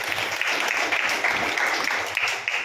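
A congregation at a church service claps steadily and fairly loudly, an even wash of hand claps with no talking over it.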